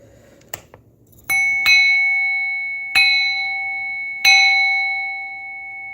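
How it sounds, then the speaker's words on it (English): A bell struck at midnight, four sharp metallic hits each leaving a long, bright ringing tone that hangs and slowly fades, loud and close with no talking. "I banged the bell at midnight."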